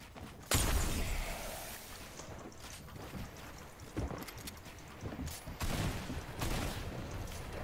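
Video game gunfire during a random duos match: a loud burst opens the clip, followed by scattered shots and rapid bursts over several seconds, close and fairly dense, with no talking.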